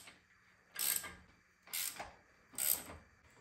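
Ratchet wrench loosening bolts on a Low Rider ST motorcycle, three short bursts of close clicking ratchet strokes separated by pauses, with no talk.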